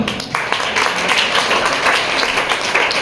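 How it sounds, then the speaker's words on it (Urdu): Sustained audience applause at an Urdu poetry gathering welcoming a speaker, dense and steady clapping filling the room for a few seconds with no voice over it. "آپ کو تالیاں بجا دیں"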